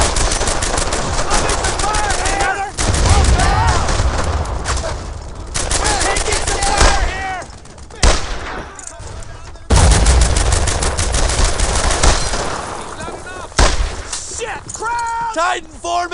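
Gunfire from the Brothers in Arms: Earned in Blood video game: loud bursts of rapid automatic fire and single shots with brief pauses between them, as soldiers shout over the combat.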